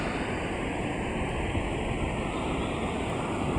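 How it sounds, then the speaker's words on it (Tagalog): Continuous roar of heavy surf, broadband and steady with no clear breaks, like big waves crashing close on a beach. No voices. "Super laki ng alon guys."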